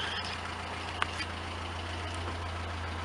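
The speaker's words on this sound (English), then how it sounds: "Idles high at first because it's electric choke." The engine of a 1977 Toyota MicroMini RV motorhome idles at a raised speed on its electric choke, a faint, steady low hum with a soft tick partway through.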